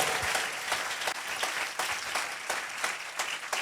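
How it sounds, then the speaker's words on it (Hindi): A church congregation claps during a Sunday sermon, a continuous mid-level applause with some rhythmic accents as individual hands stand out, steady for several seconds without speech on top. "तालियां बजाएं ऐसे खुदा के लिए"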